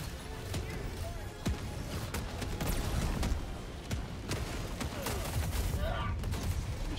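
Gunfire from a Strider walker in the video game Helldivers 2, with dense bursts of shots and impacts at mid distance in a busy battle, layered under excited talk between players.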